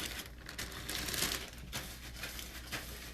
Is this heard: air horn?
no